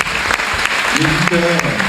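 Audience applause at a journalism debate, a burst of dense clapping with a voice speaking over part of it.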